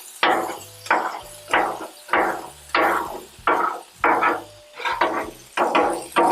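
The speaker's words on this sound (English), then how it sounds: "I'm going to go ahead and use my scraper here to just chop these up a little bit." A metal scraper chops onions on a hot Blackstone flat-top griddle, giving about a dozen sharp, close scraping whacks in an uneven rhythm, each with a brief sizzling tail, and nobody talks.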